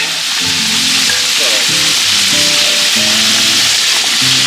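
Venison steaks sizzle loudly and continuously on a Blackstone griddle, a dense close hiss with faint scraping and stirring sounds underneath.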